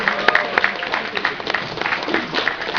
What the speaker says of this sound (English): Nice round of applause for Daniel there